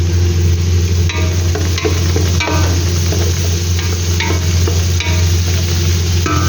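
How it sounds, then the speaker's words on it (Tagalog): Chili, tomato and spices cooking in a pan for Arabic machbos, a loud continuous sizzle with a steady low rumble underneath and occasional stirring scrapes, close up. "Hayaan nyo lang po guys na maluto"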